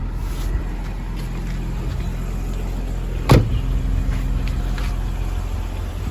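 A German-made automatic car sits with its engine idling in a steady low rumble, and a single sharp knock breaks in partway through.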